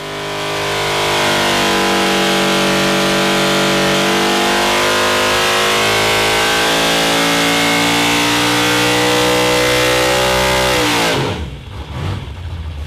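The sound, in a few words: fuel-injected car engine revving during dyno pull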